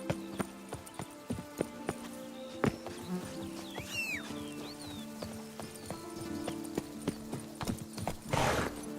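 A horse gallops in The Witcher 3: Wild Hunt, rhythmic hoofbeats pounding steadily over ambient game music, with birdsong and a brief louder rustle near the end.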